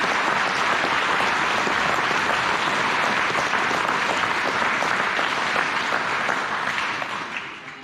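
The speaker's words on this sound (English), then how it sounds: "let's give them a round of applause" Sustained applause from the audience at a middle school 6th grade band winter concert, dense and steady clapping filling the room, tapering off slightly at the end.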